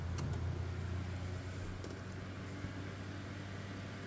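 A KDK Custom Deluxe oscillating fan runs on high speed, giving a steady, even motor hum with a low tonal drone and a soft airy whoosh, close by and unbroken, with no one talking.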